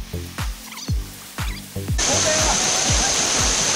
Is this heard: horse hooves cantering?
no